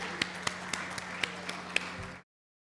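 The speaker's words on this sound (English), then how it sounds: "Please give a good clapping appreciation to all the awardees" Audience at the WANACON-2025 award ceremony clapping for the awardees, a steady wash of applause with a few sharper, closer claps standing out, then stopping abruptly.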